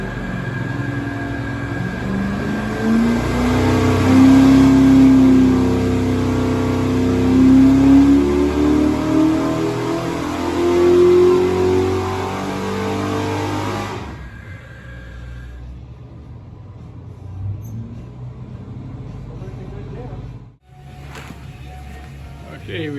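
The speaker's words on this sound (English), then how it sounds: "here's the first pull on Trevor's engine that he used last year" A race engine revs hard and steadily on a dyno for about fourteen seconds, loud and close, then cuts off, leaving quieter room noise and a few voices.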